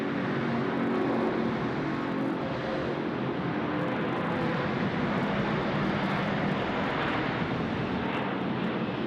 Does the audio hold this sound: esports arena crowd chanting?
no